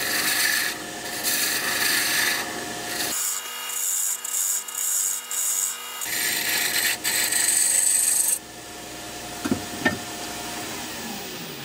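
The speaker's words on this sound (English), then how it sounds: "So I just brought the whole lot of it into shape there, and I just used the roughing gouge." A roughing gouge cutting coves into wood spinning on a lathe for a sword part, producing a loud continuous rasping shear broken into short pulses midway, then fading to a quieter motor hum with a few light taps.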